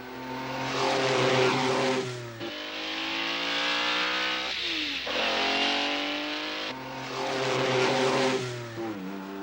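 A racing car roars past at high speed several times in succession, each pass rising and falling in pitch as it nears and recedes, with loud, revving engine tones and no voices.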